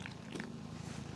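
A small, petite cat eating cookies up close, soft crunchy bites and chewing over a low steady purr, quiet and with no talking.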